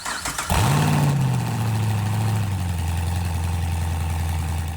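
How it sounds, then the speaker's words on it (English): A Corvette LS V8 swapped into a Porsche 911 cranks and fires up, then settles into a loud, steady, lumpy idle close by. "we do have a running LS swapped Porsche 911 though"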